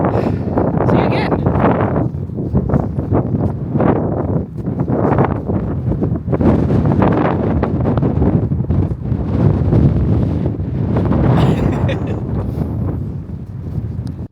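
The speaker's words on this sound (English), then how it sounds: "if you couldn't hear me over the sound of the wind" Strong wind buffeting the microphone on a coastal walk toward the Scottish border, a loud roaring rumble with gusty surges that never lets up, heavy and close, with a voice talking underneath.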